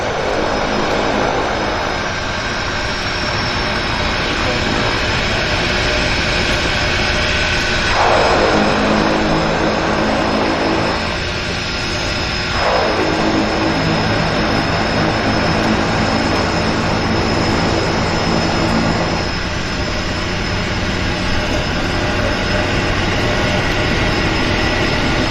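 A floatplane flies over Vancouver Harbour during a seaplane show, its propeller engine a loud, sustained drone that swells and shifts in pitch as it passes, with no voices over it.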